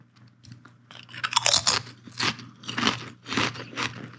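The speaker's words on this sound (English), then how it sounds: "listen to this crunch" Homemade french fries crunched close to the mic, four or five loud crisp bites and chews in quick succession against a quiet background hum, with no talk.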